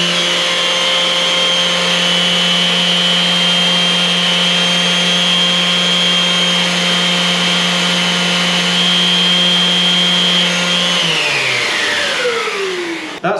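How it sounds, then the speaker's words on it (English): A V-Tuf VTM1 Mini M-class dust extractor pulls bandsaw dust through a sander from a distance. Its steady, loud motor whine holds, then winds down near the end. "That's dust out of the bandsaw being extracted through a sander at distance"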